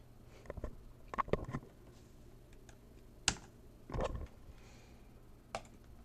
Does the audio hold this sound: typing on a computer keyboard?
yes